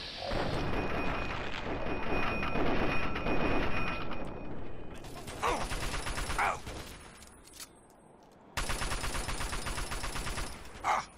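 Gunfire in the video game Fallout 3: dense, sustained bursts of rapid shots with a couple of short lulls. The firing rattles loudly, then drops away briefly and resumes just as heavily.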